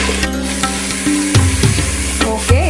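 Green chillies sautéing in a pan, a short burst of close sizzling mixed with stirring and clanks against the pan.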